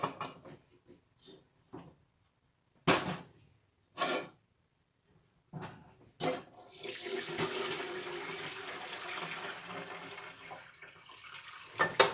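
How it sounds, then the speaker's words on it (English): Chicken broth made from a carcass is poured through a strainer into another pot, with bursts of splashing and clatter followed by a sustained rushing pour, fairly faint and with no talk. "Straining this in a different pot."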